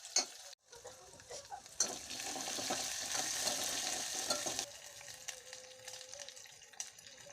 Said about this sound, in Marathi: हिंग टाकून देते